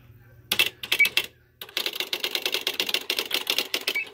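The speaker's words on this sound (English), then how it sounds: "I'm just going to randomly hit keys because I'm typing with one hand while I'm filming." Keys clatter in fast, irregular bursts on a Smith Corona SL-575 electric typewriter with spell dictionary, close and loud, a short run of strikes, a brief pause, then a steady, dense stream of typing over a faint motor hum.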